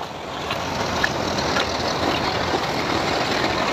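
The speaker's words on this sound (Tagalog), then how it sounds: "Malakas yung sasakyan" A vehicle engine rumbles loudly close by on a flooded street during a typhoon and monsoon rains, with steady broadband noise and splashing texture running throughout and no talk.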